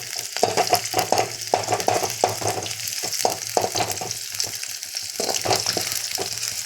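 Ingredients for egg curry fry in hot oil until browned, a loud, close sizzle broken by frequent scraping and stirring strokes of a spatula against the pan, with no talking.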